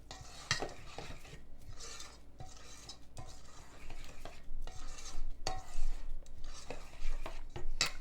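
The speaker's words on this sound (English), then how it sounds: "Go ahead and give that a good mix." Wet batter for chocolate chip pumpkin oat muffins with apple cider vinegar being mixed in a bowl, repeated soft scraping stirs with light utensil knocks against the bowl, growing louder toward the end.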